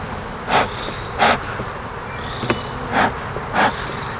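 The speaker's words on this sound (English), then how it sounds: "Bees are starting to fly." Honey bees buzz around an opened hive during a first inspection after a few puffs of smoke, with a steady low hum and several louder buzzing passes as individual bees fly close by.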